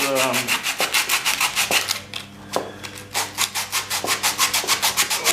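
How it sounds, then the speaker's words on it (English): Coarse 60 grit sandpaper rubs back and forth over a surface in steady rhythmic strokes, loud and close, with a brief pause near the middle before the regular scraping resumes. "I always use more coarse sandpaper"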